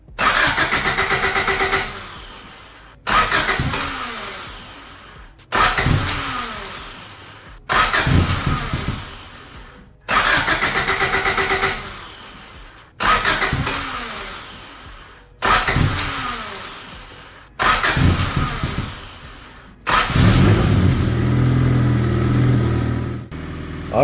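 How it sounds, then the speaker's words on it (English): A Honda CRX car engine is cranked over and over, with seven short starter bursts that each catch and die. It finally fires and settles into a rough warming idle, close and fairly loud. "I'm just gonna go ahead and start up the car, let it warm up"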